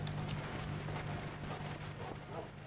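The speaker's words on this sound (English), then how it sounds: "It's raining and snowing." Steady in-game rain in a modded Minecraft FTB Beyond world, a constant hissing wash with a low hum beneath, no other sounds standing out.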